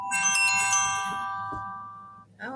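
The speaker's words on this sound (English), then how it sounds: "That was my phone." A mobile phone ringtone chimes indoors, one bright melodic sequence of sustained tones that fades out, followed by a brief voice.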